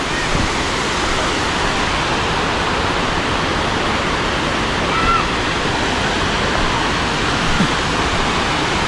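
Pha Charoen waterfall in Phop Phra, Tak, pours as a steady, dense broadband rush of falling water, close and continuous throughout with no pauses.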